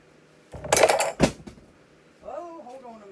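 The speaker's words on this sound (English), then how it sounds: "I just dropped something. Oh, it wasn't none of my tools. It was my drink." A drink is dropped in a home kitchen while meat loaf is being made, producing two sharp clattering knocks close by, then a short stretch of a voice speaking.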